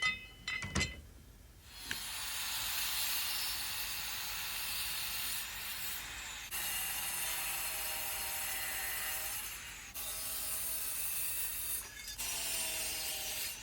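Metal pieces for a kayak mud-motor base are cut with a power saw in several long, even passes separated by brief pauses, a steady close grinding rasp.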